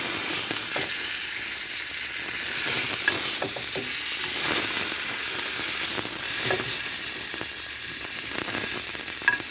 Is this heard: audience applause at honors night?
no